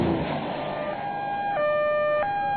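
A two-tone ambulance siren wails, alternating between high and low pitches, fairly clear over a background of road noise.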